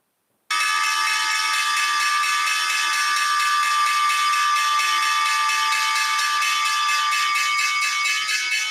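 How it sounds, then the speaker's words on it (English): The New York Stock Exchange closing bell rings after a short silence, a loud, sustained electric ringing with a rapid buzzing clatter that runs unbroken for about eight seconds, with no voices. "So again, waiting for the closing bell here on this Wednesday."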